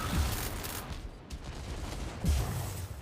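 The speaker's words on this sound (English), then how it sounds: "He's just mortar spamming." Repeated mortar fire in the mech combat game Mech Arena, dense booming blasts and rumbling impacts in quick succession, loud and close, with a second cluster of hits near the end.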